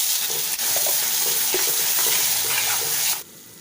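Masala paste with salt and turmeric is stirred in a hot pan for an egg gravy, giving a loud continuous sizzle with scraping strokes that cuts off abruptly near the end.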